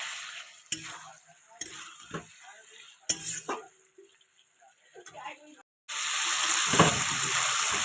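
Brinjal pieces stir-fried with spice paste in a pan for a brinjal and potato curry, with scattered scraping stirs over a low sizzle that swells into a loud, steady hiss near the end.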